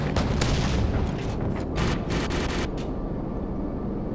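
Heavy gunfire from an AC-130 gunship in Call of Duty: Modern Warfare 2: loud, dense booming bursts that fill the first three seconds, then a lingering rumble with no talk.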